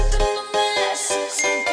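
Bright bell jingle, a short chiming effect used as a reminder to tap the notification bell, ringing in several quick tinkling strikes over about two seconds with no talk.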